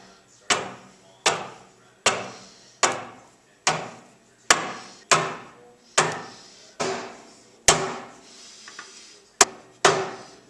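A hammer taps the bolts of a rear axle brake plate into place during a car frame-up build, about thirteen sharp metallic knocks in a steady rhythm, each ringing briefly, close and loud with no talk.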